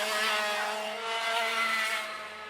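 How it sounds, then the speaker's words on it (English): A race car engine howls around the circuit at Little Rissington, a sustained high-revving tone heard from a distance that holds steady, then fades slightly as the car moves away. "I've just heard an engine from our vantage point."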